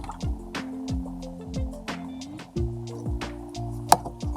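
Thick caramel-like syrup pours and drips into a cup in slow, uneven glugs, close and quiet, with a brief sharp clink near the end.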